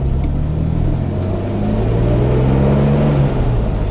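A 1958 Jaguar XK150 fixed-head coupe with a 3.4-litre engine, heard from inside while driving as a steady low engine rumble that rises slightly in pitch as it pulls, with no talking.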